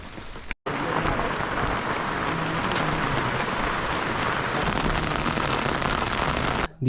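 Steady rain on a mountain trek to Parasnath, a dense, loud hiss of drops on surfaces filling the whole stretch, broken only by one brief cut near the start.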